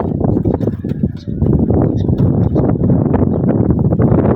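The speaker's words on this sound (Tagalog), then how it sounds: "Hangin ito mga ito." Steady wind roars and buffets across the microphone throughout, a loud continuous rumble with no pauses.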